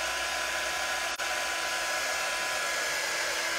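A hair dryer blows steadily and loudly on a tile door hanger craft, a continuous close whoosh with a brief dropout near the middle as the power cuts momentarily.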